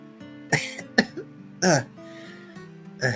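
A woman coughs in a short fit after blowing dust off an old dusty book, with several sharp, loud bursts spaced irregularly over soft background music.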